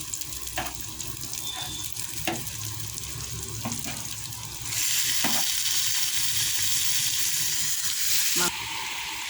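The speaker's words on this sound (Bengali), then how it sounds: "এবারে চিকেনটা দিয়ে ভালো করে মশলার সাথে কষিয়ে নেব" Chicken pieces frying with spices for chicken kosha, a steady sizzle under repeated stirring scrapes and clinks, growing brighter and louder midway before settling.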